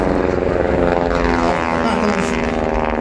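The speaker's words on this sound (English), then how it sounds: "Bruce again circling on the tail of the Sopwith triplane." A WWI Sopwith triplane and its opponent roar overhead in a mock dogfight at an outdoor airshow, the rasping propeller engine loud and continuous, swelling and shifting in pitch as the vintage plane circles close by.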